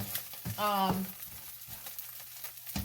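Corned beef hash sizzles in a frying pan while a spatula presses and scrapes it, soft irregular squishing and scraping under a steady fry, with a person talking over part of it.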